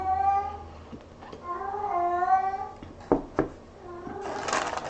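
A cat meows loudly and repeatedly in long, drawn-out wails that suggest it may be in heat, close by and dominating the clip, with a few short knocks and a burst of hissy noise near the end.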